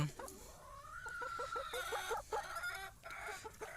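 Laying hens cluck repeatedly in a busy, overlapping run of short calls, fairly close, with no voices.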